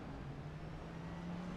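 A NASCAR race car in iRacing accelerates out of the pits after a splash of fuel, its engine holding a steady droning tone that rises slowly, heard faint and alone.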